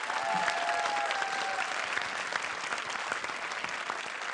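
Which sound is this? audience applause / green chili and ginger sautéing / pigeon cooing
audience applause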